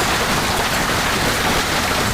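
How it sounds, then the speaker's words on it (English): Heavy hailstorm in Arizona, a dense, steady roar of ice and rain pounding surfaces outdoors, loud and unbroken throughout with no voices. "You have to feel sorry for anyone who was caught outside during this heavy hailstorm in Arizona."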